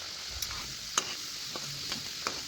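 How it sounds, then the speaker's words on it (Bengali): Khaja pastries frying in hot oil in a kadai on a gas stove, a steady soft sizzle with a few sharp pops and clinks of a utensil scattered throughout. "এখন তেলের মধ্যে সমস্ত খাজাগুলো আমি ছেড়ে দেব।"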